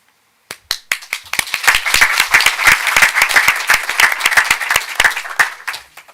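An audience at a school committee meeting breaks into applause for merit scholarship students: scattered first claps swell into dense, lively clapping from a room of people, then taper off near the end.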